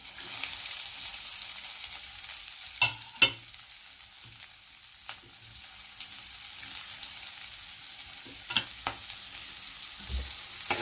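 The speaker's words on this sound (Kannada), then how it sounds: "ಈರುಳ್ಳಿ ಹಾಕ್ಕೊಂಡು ಸ್ವಲ್ಪ ಫ್ರೈ ಮಾಡಬೇಕು" Onions fry in a pan for a leafy greens stir-fry, a steady faint sizzle broken by a few sharp clatters and scrapes of stirring, with no talking.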